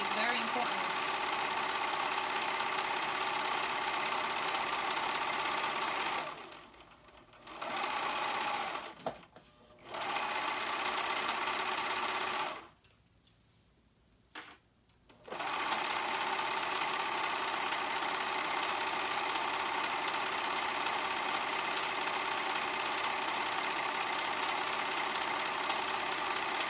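A sewing machine stitches up the side seams of a sweater knit garment. The motor whirs loud and steady at close range, breaking off briefly twice before running on continuously.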